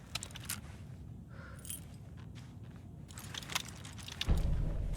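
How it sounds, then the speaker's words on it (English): A bunch of keys jangles in Alan Wake 2, a bright metallic clinking in scattered bursts over a low rumbling ambience, ending with a heavier thud near the close. "You'll need these keys."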